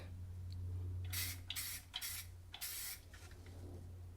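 Short bursts of aerosol spray paint hiss onto a go-kart built from an SLK320, four or five separate bursts of a couple of seconds each, close and fairly quiet, over a low steady hum.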